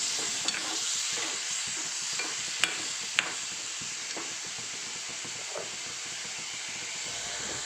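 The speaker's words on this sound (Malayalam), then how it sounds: "ഇതുപോലെ വെള്ളം ഇറങ്ങി കഴിയുമ്പോൾ നമുക്കതിലേക്ക് ഒരല്പം തിളച്ച വെള്ളം കൂടി ഒഴിച്ചു കൊടുക്കാം" Boiling water is poured into onion and brinjal sautéed in coconut oil, a steady close hiss and sizzle with bubbling steam and occasional sharp pops or spoon taps, continuing evenly without speech.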